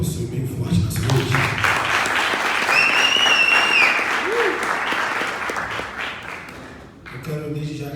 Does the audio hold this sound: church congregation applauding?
yes